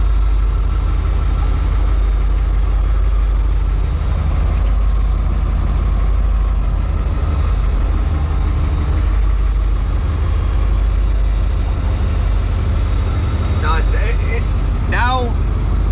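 An old truck's engine idling steadily in a collector's truck collection, a continuous low rumbling drone, with brief chirpy sounds near the end.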